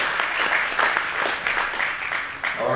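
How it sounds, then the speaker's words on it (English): Audience at an African Heritage Month gala night applauds warmly, a crowd of clapping hands with rhythmic bursts and some cheering, fairly loud and close, continuing steadily for a few seconds. "Another round of applause for her."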